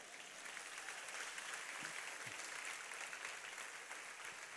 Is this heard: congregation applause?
yes